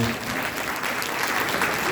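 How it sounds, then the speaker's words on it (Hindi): An audience at a Brahma Kumaris Shiv Jayanti gathering claps steadily. The dense, even applause fills the whole stretch without a break. "ताली बजाओ भाई।"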